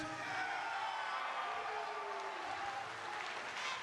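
Wrestling crowd cheering and applauding in an arena during an in-ring confrontation; a steady, dense roar of clapping and cheers at a moderate distance, continuous throughout.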